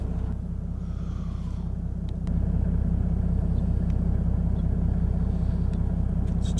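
Diesel car running on vegetable oil, heard close at the muffler: a steady low throbbing exhaust rumble with a rapid even pulse, rising slightly in level partway through.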